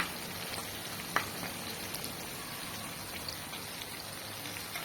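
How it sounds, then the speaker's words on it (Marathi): Asafoetida sizzles steadily in hot oil in a pan for mango pickle, a fine, even crackle with scattered soft pops, close and fairly quiet, alone without talk. "हा चांगला हिंग चांगला इथे तेलामध्ये गरम होतोय"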